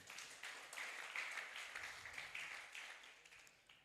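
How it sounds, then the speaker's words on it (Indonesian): Applause rises from the audience at the closing night of a public speaking contest, a soft, fairly distant patter of many hands that holds steady for a few seconds. "Mari berikan tepuk tangan untuk kita semuanya di malam yang berbahagia ini"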